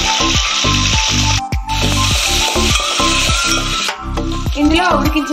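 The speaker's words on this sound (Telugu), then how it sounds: "ఇందులో ఇప్పుడు క్యాప్సికమ్ ముక్కలు వేసుకోవాలి" Capsicum pieces hit hot oil with mustard seeds and cumin in a pan, a loud steady sizzle broken by a regular rhythm of stirring scrapes, with no talk.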